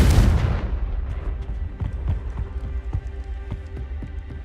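A Confringo blasting spell in Hogwarts Legacy detonates with a loud, close burst, then dies into a rumbling tail. Scattered crackles and thuds follow under low ambient rumble, with no speech.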